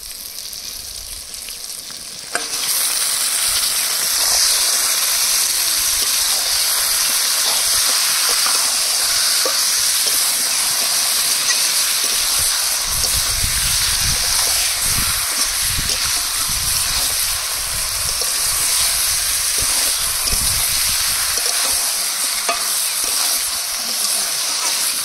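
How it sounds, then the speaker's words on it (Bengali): Chopped duck meat sautéing with spices in a hot pan gives a loud, continuous sizzle that jumps up suddenly near the start and stays hissing and crackling throughout, with a few low stirring thumps. "এবার কেটে রাখা মাংস দিয়ে একসাথে কষিয়ে নেব।"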